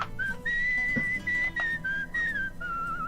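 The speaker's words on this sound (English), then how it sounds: "I love the whistling mechanic" A character whistles a short melody in the video game Where the Water Tastes Like Wine, bright sustained notes in phrases with brief gaps, over soft background music.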